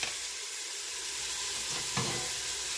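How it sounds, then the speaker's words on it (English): Onions sauteing in a pan for a keto sausage lentil soup give a steady, close sizzle and crackle with no pauses, broken by one brief stir or scrape partway through. "the onions are sauteing."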